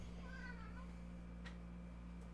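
A pet cat gives a short, faint meow at a distance under a steady background hum, with a brief sharper sound shortly after.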